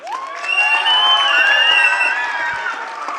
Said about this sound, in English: Cheer for contestant number 1